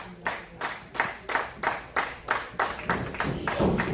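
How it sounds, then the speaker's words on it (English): Rhythmic unison clapping from a wrestling crowd at an independent show, steady beats roughly twice per second, moderately distant and building in energy. "Crowd starting to come to life to give James some support."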